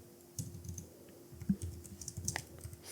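Someone types Python code on a computer keyboard: soft, close key clicks in irregular bursts with brief pauses, plus one or two sharper taps over a quiet background hum.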